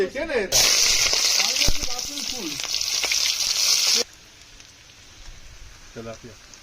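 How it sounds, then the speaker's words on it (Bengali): Onions hit hot oil in a heated wok while cooking a tomato and small tilapia fish dish, giving a loud, dense sizzle for several seconds that then drops away abruptly, with a person talking over it. "আমার কড়াইটা গরম হয়ে গেছে, এবার পেঁয়াজ"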